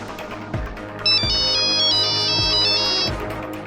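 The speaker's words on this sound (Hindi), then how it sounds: "सबूत है वो फोन कॉल जो मैंने आपको किया था।" A phone ringtone for an incoming call in a courtroom drama serial, an electronic melody of repeated bright tones over rhythmic beats, loud and close, playing alone for several seconds.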